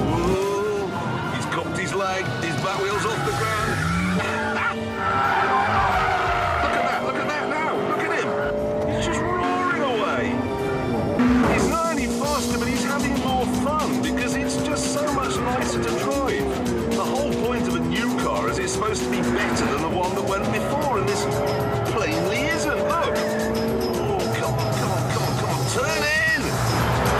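A 2006 Honda Civic Type R races hard on track, engine roaring continuously close by with tires squealing through the corners, while someone talks over it.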